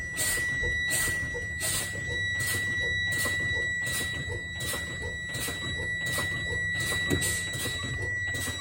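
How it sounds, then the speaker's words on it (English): A bus's steady high-pitched warning buzzer drones without a break, with faint rhythmic pulses and a low engine hum beneath it. "my light and buzzer came on."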